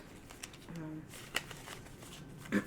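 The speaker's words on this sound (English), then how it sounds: "I actually want to do a proper shuffle here" A deck of tarot cards is riffled and shuffled in a few brief soft bursts, papery flutters, and taps spread across the moment. There is quiet room tone around them and no talk.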